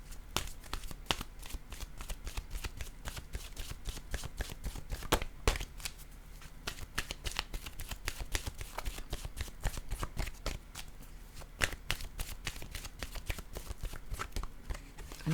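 A deck of oracle cards is shuffled by hand, a quiet run of rapid riffling flutters and soft papery slaps coming in irregular bursts, close and alone without speech.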